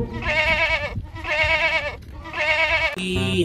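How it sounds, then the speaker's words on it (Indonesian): A goat in a video game bleats three times in a row, each call a long wavering nasal cry, loud and close, with a different animal call starting right after the third. "dan juga satu ekor kambing."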